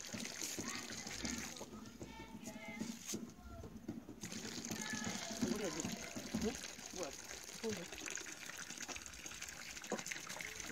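Water gushes and splashes steadily from a well supply at a coal mine site, a continuous rushing flow with voices speaking over it.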